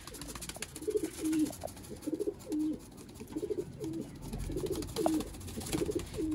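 Sialkoti Chuhe pigeons coo in repeated soft, throaty bursts, several calls spaced through the clip, fairly close with light background noise.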